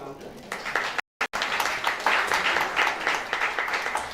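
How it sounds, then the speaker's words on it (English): Audience applause at the close of an international conference session on pedestrian spaces, steady dense clapping filling the room for about four seconds with a brief break in the middle. "We should clap for a bit louder"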